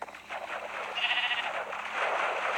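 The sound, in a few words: sheep bleating in Minecraft Pocket Edition video game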